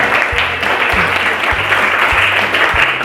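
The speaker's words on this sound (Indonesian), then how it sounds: "Tepuk tangan untuk kita semua ya." An audience at a talk show claps steadily in a dense, even burst of applause, loud and close, with a low rhythmic hum and thumps beneath it.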